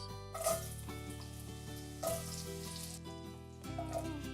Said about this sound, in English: we're gonna cut this white sweet potato into bite-sized pieces, and then we're gonna saute it up